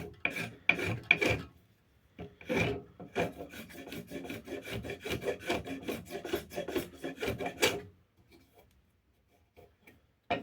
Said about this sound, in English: I'm going to try to address the chunkage here with the spoke shave